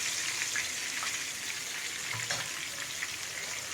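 A whole large fish, around a kilogram, fries in hot oil with a steady, continuous sizzle and faint bubbling crackles throughout, with no talking.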